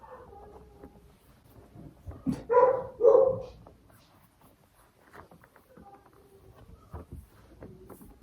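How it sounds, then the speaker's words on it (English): A puppy's mother dog barks a couple of times from another room, sharp yips around the middle, with quieter rustling and soft movement before and after. "He hears his mama barking here"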